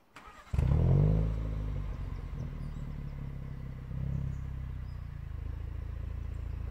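A BMW Z4 20i roadster rated at 197 hp starts up with a sharp crank, and the engine flares loudly, then settles into a steady, close idle with a slight rise in revs near the end.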